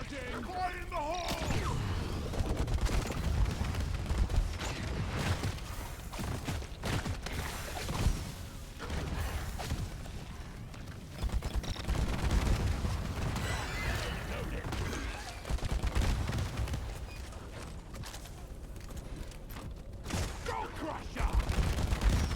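Rocket Barrage overclock firing in Deep Rock Galactic, a dense continuous stream of rapid thumping launches and explosive crackles against enemies, steady and loud throughout with a player talking over it.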